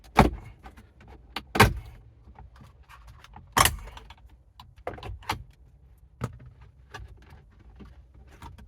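Plastic clicks and snaps as a dash removal tool pries the shifter trim loose between the cup holder and the upper trim of a Nissan Pathfinder, several sharp close taps and pops scattered over a quiet background.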